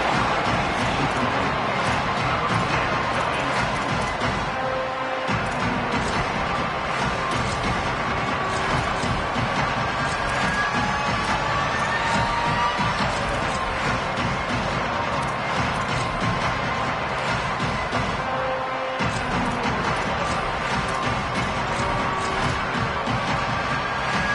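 A Texas Tech Red Raider football crowd roars steadily on third down, a loud, continuous wash of stadium noise that holds without a break, with no commentary audible over it.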